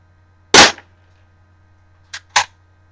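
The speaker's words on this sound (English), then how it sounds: "now I'm going to be shooting from a distance of about 3 or 4 meters" A G1 airsoft BB pistol fires three sharp, close snapping shots: one louder crack, then two quicker ones about a second and a half later, with silence between.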